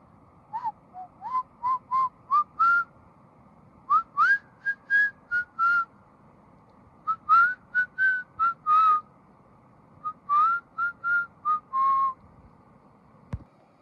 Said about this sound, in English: I was just whistling a little tune